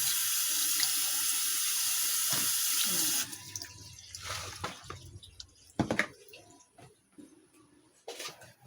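Water runs steadily from a sink faucet as food is rinsed under it, then the flow stops, leaving scattered drips, squishy handling and clatter at the basin.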